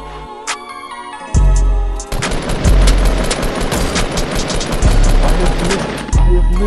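Rapid bursts of gunfire from the Fortnite video game ring out loud and close, volleys of shots sounding over several seconds amid game effects.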